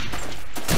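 Distant gunfire in Call of Duty 2, a short burst of shots that comes through faintly amid dense in-game battlefield noise.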